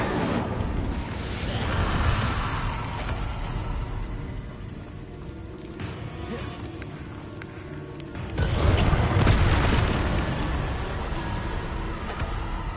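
A Confringo spell explosion in a video game, a roaring blast that swells, fades and then surges again, with broadband rumble over about thirteen seconds and no talk.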